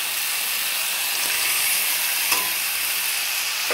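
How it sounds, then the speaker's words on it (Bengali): Vegetables including fried potatoes and fried lentil dumplings (bori) being stirred and fried in a pan for a vegetarian kohlrabi curry, giving a steady close sizzle with scraping stirring sounds throughout. "এবার সব সবজি ভালো করে কষিয়ে নেব"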